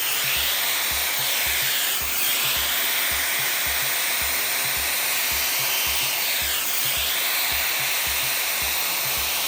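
A Shark FlexStyle hair dryer blows at its highest heat and highest speed, a loud, steady rushing roar of air with a constant motor whine, close and unbroken throughout.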